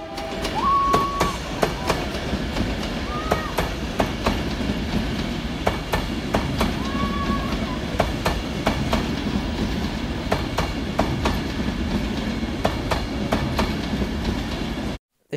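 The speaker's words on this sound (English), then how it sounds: "We've got another Class 390 Pendolino leaving Crewe Station." A Class 390 Pendolino electric train pulls out of Crewe Station with steady rolling rumble and repeated rhythmic wheel clicks over rail joints, plus a few brief squeals, continuous and fairly close.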